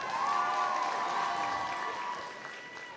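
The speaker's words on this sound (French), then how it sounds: "Est-ce qu'on peut les applaudir bien fort" Crowd applause with some cheering at a cosplay contest at Chibi Rouen Hanami 2024, loud sustained clapping fading slightly toward the end, with a faint tonal hum above it.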